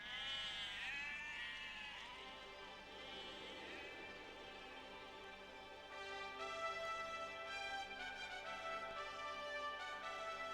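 Sheep bleat repeatedly on open upland pastureland in the English countryside, several overlapping wavering calls, fairly close and clear over a soft outdoor background.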